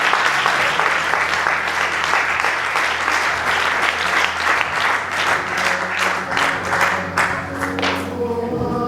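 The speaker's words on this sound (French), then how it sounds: "Acclamez très fort le Seigneur" Church congregation applauding and cheering loudly throughout, a dense sustained wash of clapping with crowd voices underneath and a low organ or keyboard hum.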